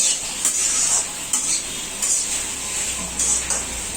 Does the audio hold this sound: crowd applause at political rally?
no